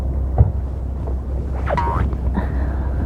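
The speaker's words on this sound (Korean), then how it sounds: "너울 있고 좀 바람 있고" Wind blows steadily across a small fishing boat at sea with a swell running, a continuous rushing roar close to the microphone, with faint voices rising briefly over it.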